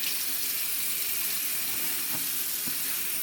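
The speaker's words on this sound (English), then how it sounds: "Use the paper towel to turn the faucet off" Water runs steadily from a faucet into a sink as a continuous, fairly loud rushing hiss, with a couple of faint knocks partway through.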